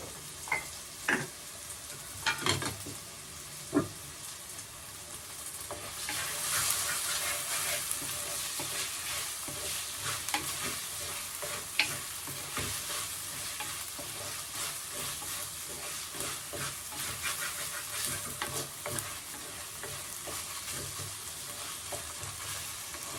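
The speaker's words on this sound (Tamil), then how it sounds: "நல்லா ஃப்ரை ஆகணும் ஃப்ரெண்ட்ஸ்" Brinjal and drumstick curry fries in a pan as a steady sizzle runs throughout, with a few sharp scraping clicks of stirring near the start and brief knocks of the spoon later.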